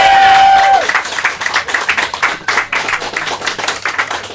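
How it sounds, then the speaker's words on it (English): Comedy audience applauding at a fringe comedy night in Faversham, a steady wash of clapping hands that follows a brief tone and carries on loud and close for several seconds, with faint crowd noise. "keep that applause going"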